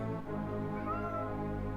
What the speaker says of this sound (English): He's a kitty, and he's loud.